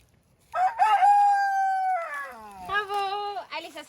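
A rooster crows near the listener, one long loud cock-a-doodle-doo followed by a second, shorter crow, with no talking over it.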